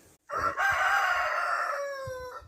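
Rooster crowing loudly nearby in a long drawn-out call at a tranquil organic smallholding, with soft low chicken clucks underneath before and after.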